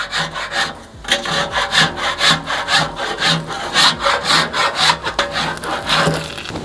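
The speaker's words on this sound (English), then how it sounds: "we're gonna go ahead and just do a scrape first" A metal scraper pushed across a stainless steel griddle on a Napoleon outdoor grill, making a steady run of rhythmic rasping strokes, close and fairly loud, with no voices.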